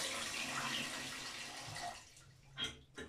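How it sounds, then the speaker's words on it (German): Water rushes faintly through a washbasin's click-clack drain valve and siphon trap, a steady wash of flow that thins out toward the end, followed by a couple of soft gurgles, quiet and alone. "sollte das Wasser jetzt rauskommen."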